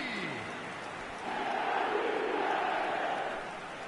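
Stadium crowd in eFootball, a broad roar that swells into a louder, sustained surge of chanting voices before settling slightly.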